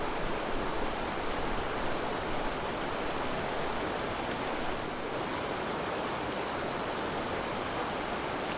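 A clear mountain stream runs with a steady, dense rush of water while a bottle is refilled in it; the flow is close and constant, with no voices.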